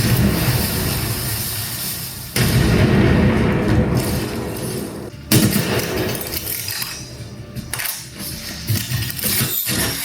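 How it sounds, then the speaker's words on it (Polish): A video game grenade goes off in a dense, continuous roar of game sound played through a 2.1 speaker system with a 60 W RMS subwoofer. Sharp bursts cut in partway through, and there is no talking. "Leci granat."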